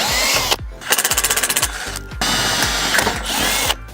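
A power drill drives screws while installing Muzata cable railing, giving loud bursts of whirring and rapid ratcheting pulses separated by short pauses, with the motor starting and stopping several times.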